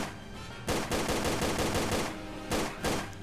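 Automatic gunfire in Tomb Raider: The Angel of Darkness, a rapid burst of sharp shots firing in steady succession, then two more short bursts after a brief pause, loud and close.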